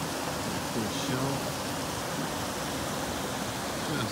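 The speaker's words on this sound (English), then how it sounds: "Comes a nice little drop falls here into the creek. And yeah, it's a nice little waterfall." A small winter waterfall on the Clatskanie dropping into a creek, a steady broadband rush of falling water, even and unbroken, with faint voices underneath.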